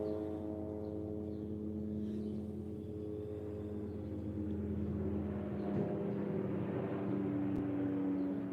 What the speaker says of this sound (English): The helicopter is circling us.